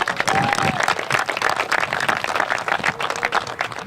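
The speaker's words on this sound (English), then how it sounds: "Can we give Wayne a round of applause?" Steady audience applause at a Dave and Buster's groundbreaking ceremony, many hands clapping together at a full, even level throughout.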